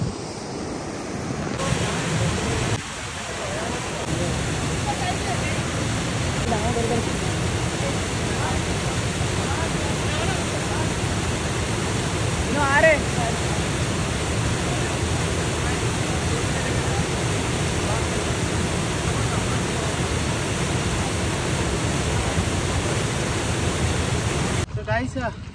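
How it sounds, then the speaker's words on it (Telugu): Steady, loud rushing water at Ethipothala Waterfalls, a broad continuous roar of falling water mixed with wind buffeting the microphone, holding unbroken for the whole stretch. "ఫాల్స్ అయితే ఉంది."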